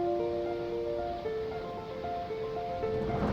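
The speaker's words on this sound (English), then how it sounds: "A waterfall and a beautiful canyon near Turovi village." A waterfall in a canyon near Turovi village, Bosnia and Herzegovina, roars continuously in the background, with faint tonal whistles or birdsong drifting over it outdoors.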